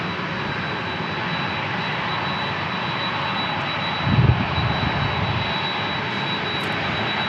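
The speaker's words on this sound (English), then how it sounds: "All right, 767 out of here" A Boeing 767 jet departs San Diego International Airport, its engines giving a steady, broad roar with a faint high whine, swelling briefly midway and then holding.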